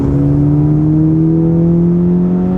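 A 10th-generation Honda Civic Si with an upgraded turbo pulls hard in third gear from about 4,000 rpm, its loud, close engine drone climbing steadily in pitch with a strong continuous hum and no voices over it.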